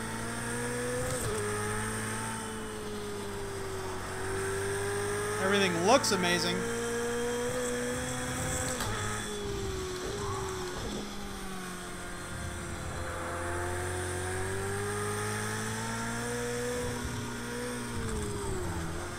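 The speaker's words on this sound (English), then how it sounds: "For a Ferrari, that sounds amazing." A Ferrari race car engine in the racing video game Project Cars 2, humming and rising in pitch with gear-change dips and a brief revving burst, heard under someone talking.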